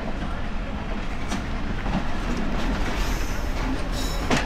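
A local mail train at Rajbari railway station gives a steady rumble of rolling carriages with scattered clanks and knocks, continuous and fairly loud throughout.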